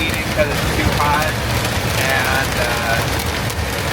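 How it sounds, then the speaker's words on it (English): Hail pelts a semi-truck on a mountain pass heading into Colorado, a dense, steady broadband clatter and hiss on the cab with a low rumble of the truck underneath, continuous throughout. "It's hail."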